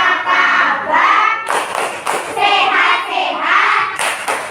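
Children clap together in a rhythmic classroom clap chant, sharp thumping claps falling in patterned bursts between sung chanting voices, close and loud.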